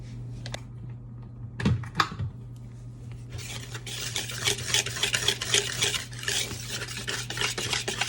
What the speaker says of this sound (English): And then we mix it all together.